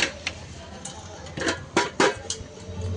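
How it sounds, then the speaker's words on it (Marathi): A knife chopping carrots in a farmhouse kitchen being readied for a haldi celebration, a few sharp knocks and clinks against a board or dish, irregular and close, over low background hum. "गाजर कापायला लागलेत बघा"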